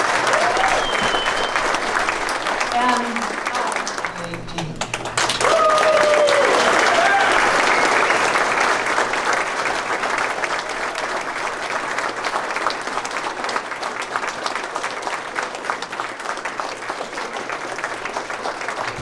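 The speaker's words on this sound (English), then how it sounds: "give her a big Texas applause as she comes up here" Audience applause at a Texas star party talk, sustained clapping from a full room that swells early and continues steadily, with a few faint voices calling out near the start.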